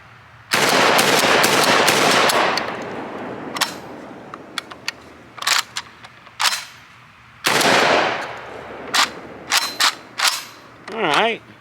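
A JTS AK-pattern 12 gauge shotgun, Storm Trooper Edition, is fired through a magazine at a range, with a long run of loud blasts followed by scattered single shots, short pauses and mechanical clatter between them.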